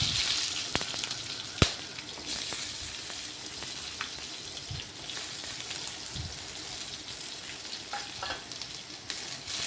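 Steady close sizzle of onion frying in oil with a piece of cinnamon, cardamom and cloves, broken by clicks and scrapes of a spatula stirring the pan, one louder knock early on.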